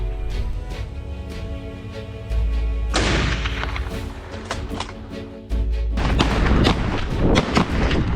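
Hunter firing at wild boar in a swamp: two heavy, booming gunshots a few seconds apart, loud and close, the second followed by a rumbling, dense rush of noise.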